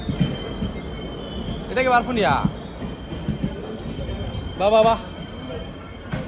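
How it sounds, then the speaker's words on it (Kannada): A train arrives at a station with wheels squealing in two bursts of high wavering screech, amid rumbling rail noise, close by, while people speak nearby. "ಟ್ರೈನ್ ಬಂತು ಟ್ರೈನ್ ಗಡ ಆಗ್ತದೆ"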